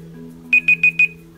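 A kitchen-style timer alarm goes off with four quick, evenly spaced high beeps, loud and close, over a faint steady background hum.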